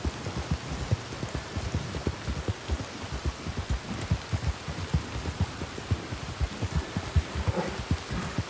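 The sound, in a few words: rain in the video game Red Dead Redemption 2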